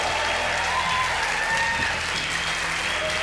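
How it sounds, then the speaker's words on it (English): Dense, loud audience applause for Naveen Jain fills the whole stretch, steady and continuous, with faint voices mixed into the crowd noise. "Please, round of applause for Naveen Jain"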